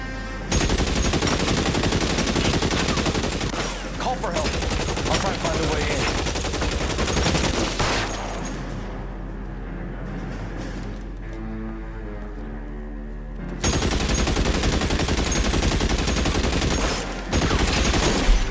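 Gunfire in L.A. Noire: loud, dense bursts of shooting fill most of the stretch, dropping to a quieter lull in the middle before heavy firing resumes.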